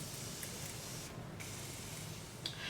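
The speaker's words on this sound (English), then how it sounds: "I'm just going to spray my face with my first layer of setting spray." A soft, close misting hiss of Morphe Continuous Setting Mist sprayed onto a face runs steadily, with a couple of faint clicks from the spray pump.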